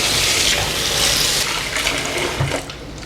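Black sesame seeds being washed in water, a loud, close, steady rush of running and sloshing water that eases off near the end, no talking.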